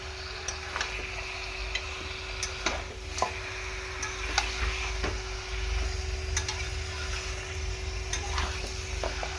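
Mutton and potatoes stir-fried in a pan, with a steady sizzle under repeated sharp scrapes and taps of a spatula against the pan, close by and without talk.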